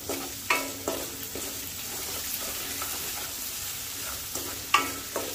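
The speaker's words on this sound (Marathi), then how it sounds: "आता मीठ टाकायचं आहे 1 चमचा, मला फिरवून घ्यायचं आहे" Lemon rice sizzles in a pan while salt is stirred in, with a spoon scraping and tapping at intervals over steady frying.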